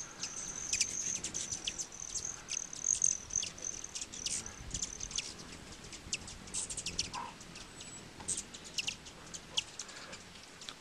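Steady insect buzzing and chirring fills the background on a farm in northern New Mexico, with a few bird chirps scattered over it, continuous and moderately faint outdoors.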